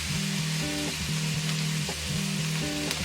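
Finely chopped onions sauté in hot oil for fish cutlets, giving a steady, loud, close sizzle that runs through the whole clip, with a faint tonal hum underneath and no talking.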